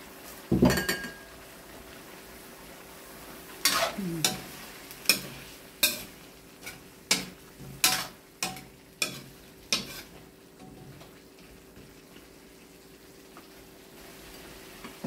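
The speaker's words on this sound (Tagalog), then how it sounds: "Lagay na rin po natin yung sitaw at saka okra." String beans and okra go into a pot of pinakbet, a Filipino vegetable stew, followed by a steady run of sharp metal-on-pot clinks and scrapes from stirring, fairly close and with no talking.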